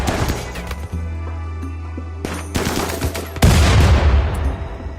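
Gunfire erupts during a colony raid in RimWorld, bursts of rapid automatic shots and single cracks followed by a heavy boom, loud and close, with no voices.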